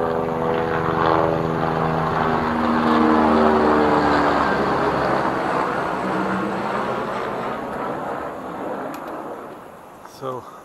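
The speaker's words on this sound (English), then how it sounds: "Let this helicopter pass." A helicopter passes overhead on a Nepal trekking route, its rotor chop and engine roar loud and close at first, then gradually fading into the distance as it moves away.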